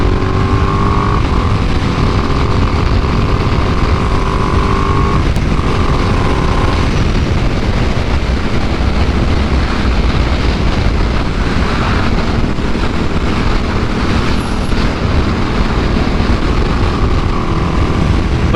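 A 2025 Ducati Panigale V2 rides along with a loud continuous engine drone heavily buried in rushing wind buffeting the microphone, the tone rising and falling slightly throughout.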